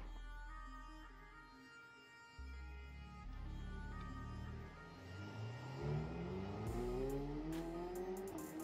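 A Ferrari sports car drives along during rolling shots, its engine droning low and then climbing in pitch as it accelerates. The sound swells louder toward the end, with a few sharp high clicks and no voices.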